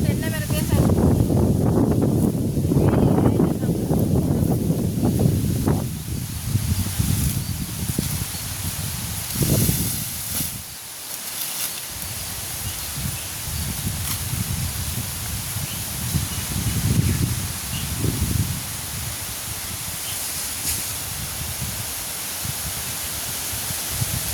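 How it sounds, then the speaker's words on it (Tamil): Gusty wind rushes and roars, with a hiss of rustling leaves; it rises and falls in strength and briefly drops away midway. "காற்று தான் சரியான காற்று இந்த காற்று"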